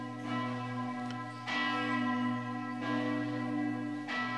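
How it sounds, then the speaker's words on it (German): Church bells ring out before a German-language Mass at the Chapel of the Apparitions in Fátima, loud resonant strikes about every second and a half with long sustained overtones ringing between them, heard alone without voices. "Und die Glocken, die bestätigen das jetzt."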